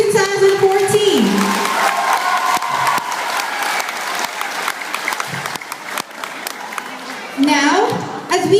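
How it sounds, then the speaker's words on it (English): A graduation ceremony crowd bursts into loud applause mixed with cheers and shouts, sustained clapping throughout, with a swell of cheering near the end. "A round of applause to all members of Batch 2014"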